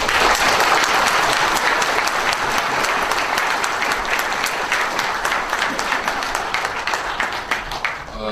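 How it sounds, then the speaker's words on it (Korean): A seated audience at a Kwanhun Club debate forum breaks into loud, steady applause to welcome a guest, the clapping dense and continuous before thinning slightly toward the end. "문 고문님 큰 박수로 맞아주시죠"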